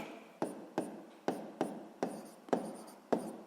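Hand writing of a physics formula, with about eight quick scratchy pen or chalk strokes in an irregular rhythm, close and quiet, with no talk.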